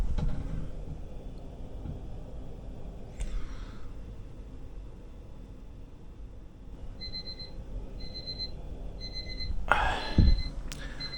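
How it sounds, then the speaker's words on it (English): An alarm clock rings in a room with repeated short electronic beeps in a few bursts, moderately faint over background noise, followed by a brief louder rustle. "Sorry about the alarm"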